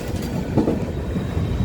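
A Delhi Metro train rolling past close by, a loud steady low rumble with faint rail clatter throughout the short stretch, no talking.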